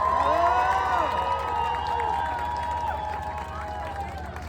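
Crowd at a climate march in the streets of Montreal applauding and cheering, a broad wash of clapping and whistles heard over a loudspeaker-like tone, gradually fading.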